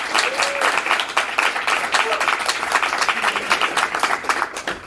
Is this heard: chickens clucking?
no